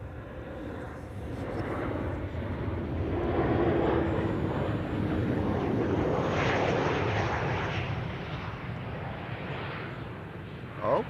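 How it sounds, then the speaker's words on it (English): KLM Boeing 737-800 landing at Amsterdam Schiphol, a broad jet roar that swells and fades as it passes at moderate distance, steady throughout. "this is KLM Flight 1164, arriving from Bergen, A737-800"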